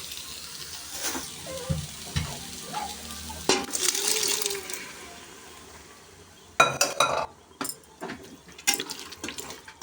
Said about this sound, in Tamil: இப்போ இதை அப்படியே இந்த காய்கறியோடு சேர்த்துருவோம்